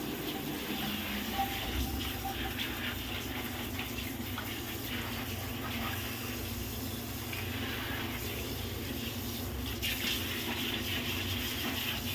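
Warm tap water runs steadily over air-conditioner filters being washed front and back, a continuous close splashing gush that lasts throughout with little change.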